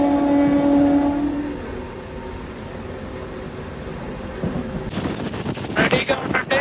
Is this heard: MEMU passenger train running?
yes